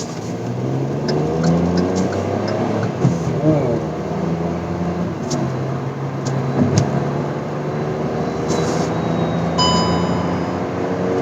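A Hyundai i20 N Line hatchback driving on the road, its engine tone rising and falling through gear changes beneath steady tire and cabin noise, with a few clicks and beeps.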